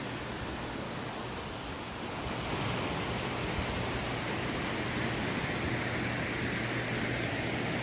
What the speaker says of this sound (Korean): 동에서 달려오는 파도 같아요.